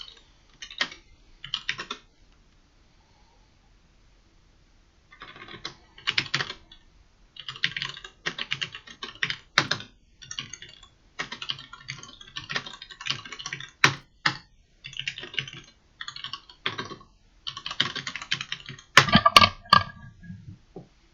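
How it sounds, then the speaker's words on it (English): Computer keyboard typing during an esports tournament broadcast comes in rapid bursts of clicky keystrokes with short pauses between them, loud and close, with a heavier clack near the end. "Apologies for the typing, but we can't really do anything against it"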